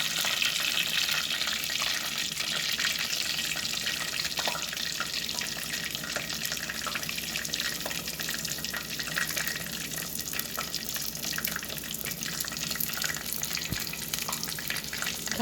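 Crispy pork belly fries in hot oil with a steady, dense sizzling hiss and crackle that runs unbroken throughout, with occasional faint clinks.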